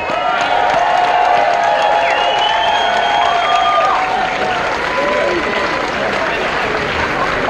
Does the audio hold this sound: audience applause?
yes